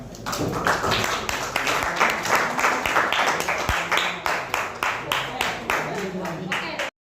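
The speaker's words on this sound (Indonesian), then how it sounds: "Mari kita beri tepuk tangan." A school debate audience applauds in a steady, loud burst of many hands, a few individual claps standing out, the rhythm holding until it stops abruptly.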